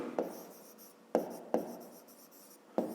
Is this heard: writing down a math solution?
yes